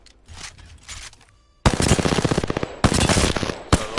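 Automatic gunfire in the video game Apex Legends, with a few softer shots followed by loud, rapid sustained bursts of fire as the trigger is held, each burst a dense rattle of individual shots.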